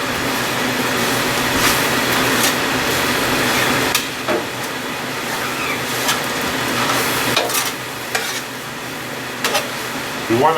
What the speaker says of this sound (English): We want to mix this all in